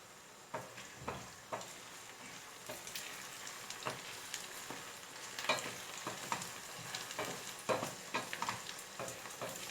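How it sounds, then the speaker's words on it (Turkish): Vegetables and grains cooking in sauce in a pot, giving a soft continuous bubbling sizzle broken by occasional light stirring scrapes, fairly faint and steady with no voices. "Şimdi bu sosunu ilave ettikten sonra bir 5 dakika kaynatırsam yeterli"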